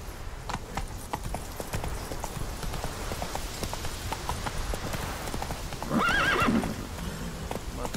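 Roach, Geralt's horse in The Witcher 3, gallops with steady clip-clop hoofbeats throughout, then lets out a loud whinny near the end over an ambient game background.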